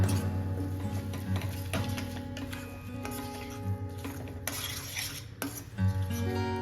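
A spoon works through a crushed raw corn mixture with salt for corn vada, giving clinks and scrapes against a metal pot over a low hum, close by and moderately loud, with no one speaking.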